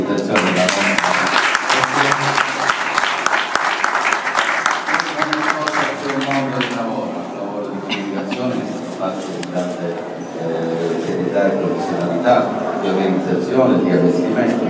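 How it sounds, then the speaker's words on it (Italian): Applause for the organisers at an Italian art event, Fiumara d'arte, with dense clapping loudest at first and thinning midway, while someone talks over much of it. "vorrei fare un bel applauso a tutta l'organizzazione della provincia"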